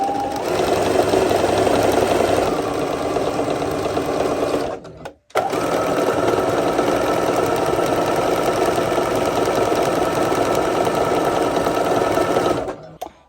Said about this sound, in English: I'm just going to stitch everything together